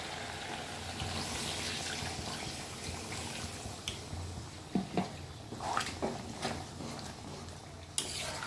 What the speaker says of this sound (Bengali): আমি এবারে জল দেব।